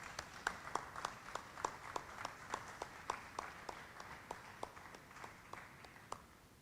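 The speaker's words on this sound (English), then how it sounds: "I'd like all of you to give a rousing round of applause and thanks to Dr." Small audience in St. Matthias Church applauding after a lecture, a faint, thin patter of separate claps at a fairly even pace, heard from a distance.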